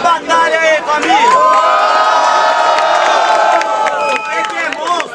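Rowdy crowd at a Brazilian rap battle cheering loudly, with shouts, whoops, whistles and scattered clapping swelling into a sustained roar that fades slightly toward the end.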